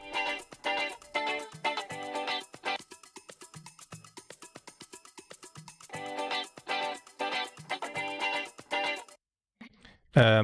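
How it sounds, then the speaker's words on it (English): Busy rhythmic percussion plays alone in a steady, repeating pattern, bursts of bright tonal hits alternating with quieter ticking beats, cutting off near the end. "Then we have some more percussion."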